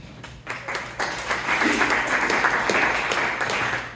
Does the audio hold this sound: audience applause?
yes